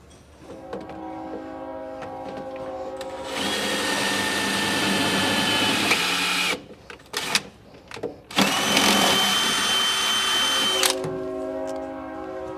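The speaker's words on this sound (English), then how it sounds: "we're going to drill up through the bottom of the bed and through our drill template." A power drill fitted with a long quarter-inch bit bores up through the underside of a Chevy 2500/3500 truck bed, a loud whirring run that stops briefly, then resumes before winding down.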